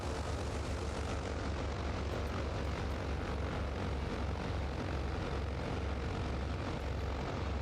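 A TBM turboprop plane in Microsoft Flight Simulator 2020 gives a continuous, dense engine roar with a low propeller throb, steady and loud throughout with no pauses and no talking.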